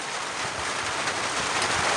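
Steady rain falling during a fishing trip, a dense continuous hiss with soft patter, fairly close and even throughout with no talking.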